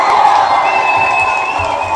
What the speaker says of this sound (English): I want to give you in the audience a huge round of applause